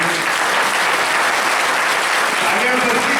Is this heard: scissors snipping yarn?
no